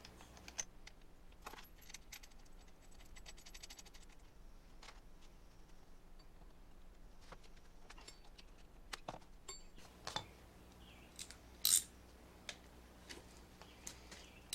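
Metal parts clinking as a reverse lever is fitted to a Hurst shifter, faint scattered jingles and ticks with a sharper clatter near the end, quiet room, no talk.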